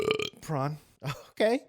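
A loud, drawn-out belch from a man on a casual movie podcast, heard close and clear between short bits of spoken talk.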